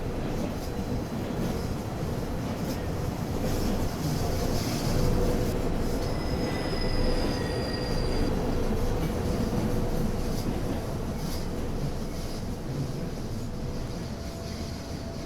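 A Swiss RhB ABe 8/12 Allegra electric train rolls past a level crossing, a loud, sustained rumble of wheels on rails with thin high wheel squeals drifting in and out, steady from start to finish.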